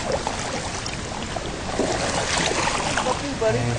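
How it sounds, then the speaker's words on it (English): A kayak paddled along the Great Glen in Scotland, with steady splashing and water rush blended with wind noise, moderately loud and continuous. "Here's Sai paddling along"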